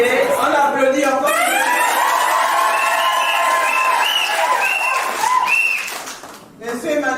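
Guests at a civil wedding ceremony in a French town hall clap and cheer, a lively crowd of applause with whoops and voices overlapping, fading out toward the end.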